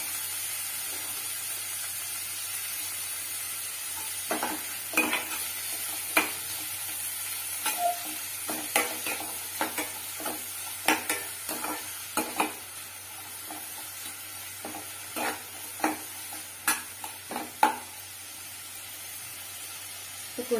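Onion and egg sautéing in a pan for an egg stir-fry, a steady low sizzle punctuated by many sharp, irregular spatula scrapes and taps, close and clear with no talk.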